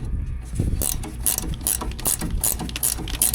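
A ratchet wrench clicks in quick repeated bursts while turning a part on a cotton harvester during a Texas field harvest, with close, sharp pawl clatter and no talking.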